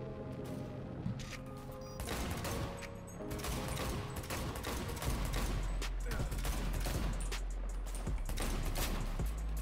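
Gunfire in a first-person shooter video game, with dense bursts of rapid automatic fire and scattered crashes and booms layered over a constant rumbling backdrop, loud and close throughout the whole stretch.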